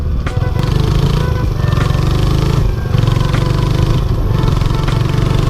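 A motorcycle engine runs steadily at low revs throughout, a deep continuous rumble with slight rises and dips, no voices.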